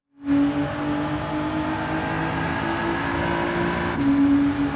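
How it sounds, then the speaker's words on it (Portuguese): A steady, loud car engine drone in the video game Gran Turismo 7 that starts abruptly and holds an even pitch, rising slightly near the end, with no voices. "vocês podem ouvir o barulho do motor?"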